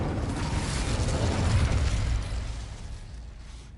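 An Incendio fire spell is cast in the Hogwarts Legacy video game: a broad, loud whooshing burst of flame that swells over a couple of seconds and then fades.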